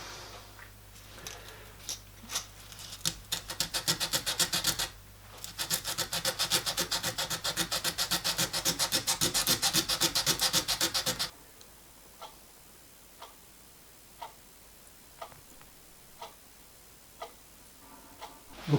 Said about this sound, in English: And a bit of emery cloth.